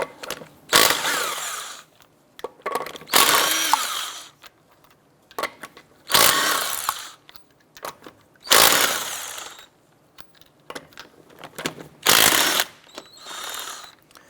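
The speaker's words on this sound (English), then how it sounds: "Using a 19mm socket, we're going to go ahead and remove our lug nuts." A power tool with a 19mm socket spins off lug nuts on a 2006-2013 Chevrolet Impala, giving six loud, separate rattling bursts of about a second each, with short quiet gaps between them.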